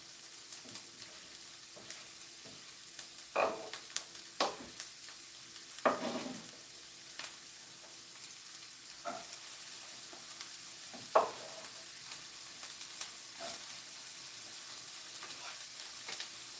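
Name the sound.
onion sizzling while frying in pan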